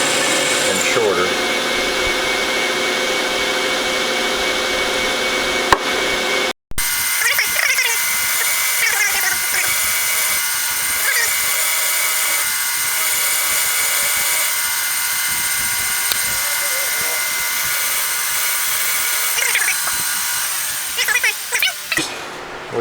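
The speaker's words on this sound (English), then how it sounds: "We got it drilled with a" A number 7 drill bit boring a hole for a lathe tool post, heard as a steady, loud, high-pitched whine of continuous drilling with one brief stop.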